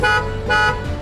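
A vehicle horn sounds twice as a signal, two loud sustained honks close by, each lasting about a fifth of a second, with no talking.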